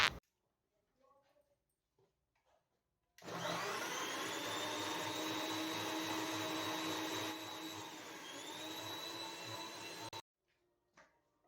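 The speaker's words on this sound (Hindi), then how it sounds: "अब इन सबको मैं एक साथ ग्राइंड कर लूँगी। आम को अलग ही रखूँगी, बाकी टमाटर, प्याज, अदरक, लहसुन इन सबको ग्राइंड कर लूँगी।" A mixer grinder blends tomato, onion, ginger and garlic, starting abruptly into a loud, steady motor whir with a high whine that runs about seven seconds and then cuts off, with near silence before and after.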